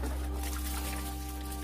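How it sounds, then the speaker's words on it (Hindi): Water is poured onto soil around a newly planted coconut sapling, a steady close trickling and splashing under a low constant hum, with no talk. "पानी ढाल देवा"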